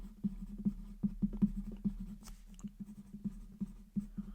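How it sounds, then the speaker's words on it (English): Pen or pencil writing by hand on paper, a quiet close series of irregular scratchy strokes and taps in uneven bursts, with no talk. "I'm actually going to write that down."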